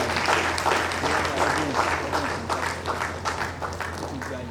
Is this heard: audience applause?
yes